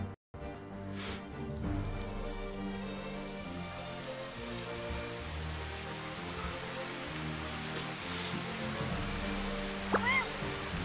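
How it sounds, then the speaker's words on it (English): Steady rain pours in Final Fantasy XV's Platinum Demo, a dense, continuous hiss of drops on surfaces that holds at even loudness throughout, with game music faintly underneath and no talking. "Let's get out this rain first."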